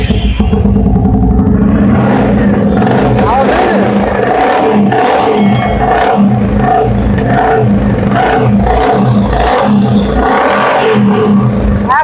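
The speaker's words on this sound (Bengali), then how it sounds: "প্রত্যেকটা ইঞ্জিনের বিট গুলো শোনাও, প্রত্যেকটা ইঞ্জিনের বিট থেকে শুরু করে সব ক্লিয়ার" A Royal Enfield Meteor Fireball edition motorcycle in new condition idles loud and close, its single engine thumping in a steady rumble with slight revs, while someone talks over it.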